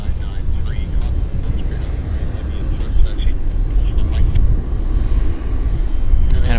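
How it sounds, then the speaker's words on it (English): A JAL airliner takes off at Vancouver Airport, its jet engines producing a loud, steady, broadband roar that holds close and continuous throughout with no pauses. "See if we can get an early rotation and a nice steep climb out with vortices."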